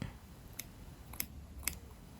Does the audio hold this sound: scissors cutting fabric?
yes